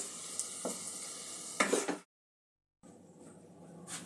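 Paneer pieces fry in melted butter with a soft, fairly quiet sizzle that cuts out into a brief silence midway, then resumes.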